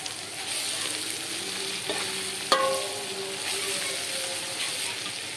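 Tomatoes and onions frying and simmering together in a pan for Egyptian koshari, a steady close sizzle with a sharp clink of a utensil midway and soft stirring, no talk.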